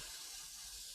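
Spray paint hissing from a can onto a model kit, a steady close breathy jet held for the full second with no other sound over it.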